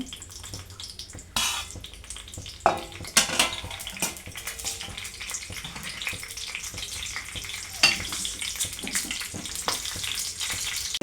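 Chillies and curry leaves hit hot oil in a pan with a sudden loud sizzle, then keep frying steadily while a utensil clinks against the pan a few times, close by.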